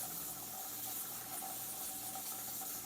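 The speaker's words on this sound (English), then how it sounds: "I pull water off of my Berkey water filter" Water runs steadily from the spout of a Berkey gravity water filter in a home kitchen, a continuous close hiss of flowing liquid with no talking.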